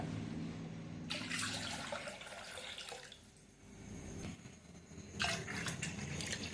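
About two liters of water gush into a pot for boiling in two rushing pours, the first lasting a few seconds before stopping and the second starting shortly after, close and fairly loud.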